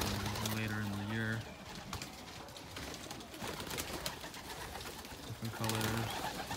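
Racing homer pigeons coo in a loft, with repeated low throaty coos near the start and again near the end over a busy background of shuffling and other birds, while someone talks.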